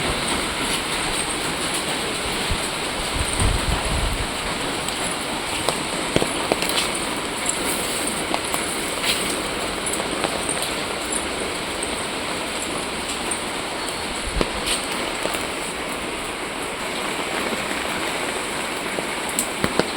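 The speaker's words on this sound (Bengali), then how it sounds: "ওদের বাড়িতে আবার জোরে বৃষ্টি এসছে" Heavy rain falls outdoors around a house, making a dense, continuous hiss that stays even throughout, with a few faint knocks and drips.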